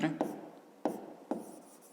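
A pen writing on paper during a maths lesson, a faint scratching broken by three sharp taps at intervals.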